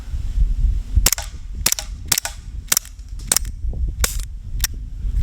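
A Glock 17 gas-powered BB pistol fires seven sharp, loud cracks spaced roughly half a second to a second apart, each a crisp pop over a low background rumble.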